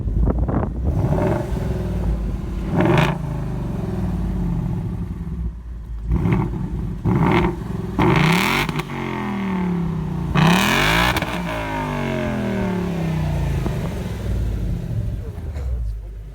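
A Ford Mustang GT with an active valve exhaust revs loudly in repeated sharp bursts, its engine climbing high and falling back between blips while people talk nearby.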